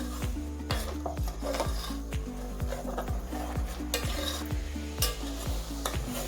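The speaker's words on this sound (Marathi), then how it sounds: "मसाला आपला छान असा परतला गेलाय" Spice masala paste sizzling in a pan while a spoon stirs it, giving steady frying hiss with regular scraping strokes and light clinks against the metal, close up and without speech.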